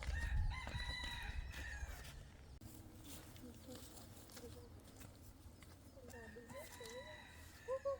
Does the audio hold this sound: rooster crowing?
yes